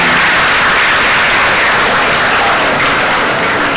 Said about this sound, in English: you can give a big round of applause to the multimedia presentation team.